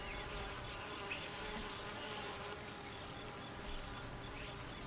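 Honeybees (Apis mellifera) buzzing in a steady, continuous drone at low level, with no one talking.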